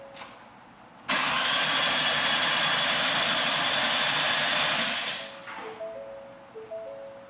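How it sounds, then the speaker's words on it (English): A Ford F-150 Coyote 5.0 V8 truck engine cranks over loudly and continuously for several seconds to build oil pressure, then winds down into a softer, whining tail. "we're going to go ahead and turn the engine over"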